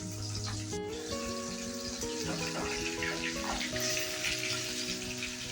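Fish frying in hot oil in a home kitchen, a steady dense sizzle running throughout at close range, with faint clinks and kitchen tones underneath and no speech.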